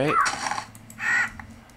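A crow caws in the Minecraft Twilight Forest near a hollow hill, two or three short harsh calls standing out over quiet game ambience.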